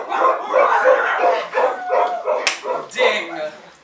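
Several chihuahuas bark and yip in quick, excited bursts, close and loud, with a sharp clatter midway through.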